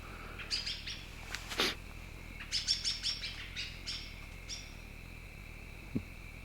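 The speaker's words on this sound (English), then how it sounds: "Probably 2 birds fighting." Two birds fighting, chirping in quick, excited bursts of high tweets, fairly faint and sounding outdoors at a distance, with short pauses between flurries.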